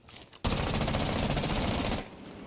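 Gunfire from a rifle fitted with a commutator and vertical grip in Rainbow Six Siege: one loud sustained automatic burst lasting about a second and a half, coming after a short quiet lead-in and ending abruptly.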